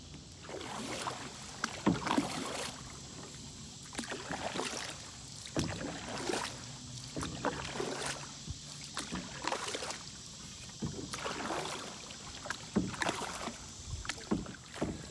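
Paddling a canoe on calm water, with rhythmic splashes and drips of paddle strokes repeating every second or so, plus light knocks against the hull over soft wind.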